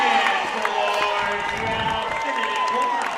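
Juab fans cheer after a pin at a high school wrestling dual against Westlake, a steady crowd roar with clapping and shouts carrying through the gym, while a voice speaks over it close by.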